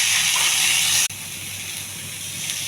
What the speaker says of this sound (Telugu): తోటకూర తాలింపండి. ఉల్లిపాయ, నానబెట్టిన పెసలు,